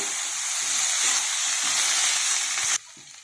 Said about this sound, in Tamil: எண்ணெய் போட்டு கீரை இதெல்லாம் வதக்கிடலாங்க